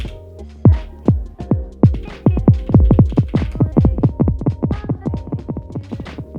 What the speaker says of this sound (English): So that's the delay.